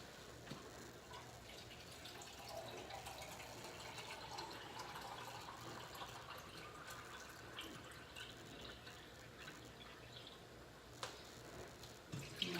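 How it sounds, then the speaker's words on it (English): Water pours steadily into canned coconut milk, a continuous faint trickling and splashing with occasional drips toward the end, no voices. "I'm going to add 2 cans of water"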